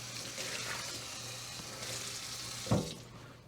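Tap water runs steadily into a sink as a cast iron skillet is rinsed, a continuous broadband wash with a brief louder splash near the end.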